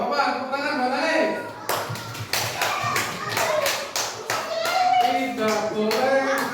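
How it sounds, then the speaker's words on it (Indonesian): A classroom of children clapping together for a classmate, a dense burst of hand claps with a voice speaking over parts of it. "tepuk tangan buat Alek"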